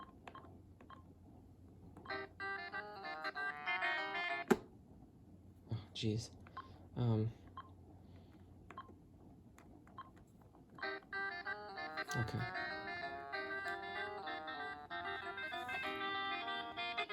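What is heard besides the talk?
muffled ringtone of AT&T E580 cordless phone handset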